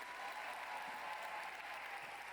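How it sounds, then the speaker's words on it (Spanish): Steady, fairly faint applause from an audience at a women's national church retreat, welcoming pastor Betania Santana, runs as a continuous wash of many hands with no voices on top. "vamos a recibir con un fuerte aplauso a la pastora Betania Santana"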